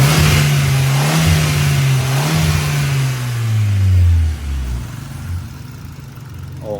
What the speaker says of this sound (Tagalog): Tapos ito yung makina.